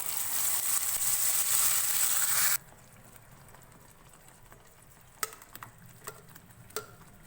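Onion, garlic, ginger and green chili paste frying in oil with cardamom makes a loud, steady sizzling hiss that cuts off abruptly, followed by a few scattered light clicks of a spoon against the pan.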